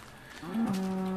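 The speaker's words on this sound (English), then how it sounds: "Oh, look, more cows!" A cow in Minecraft gives a single short, close moo with a rising, tonal call, heard alone.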